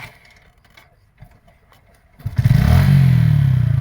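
A motorcycle engine cranks and catches after a couple of seconds of quiet clicks, then settles into a loud, close, steady idle.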